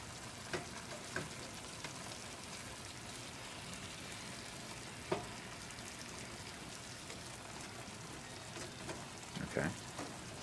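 Salmon fillet sizzling in a pan on low heat after being flipped, a steady soft frying hiss with a few faint clinks and scrapes.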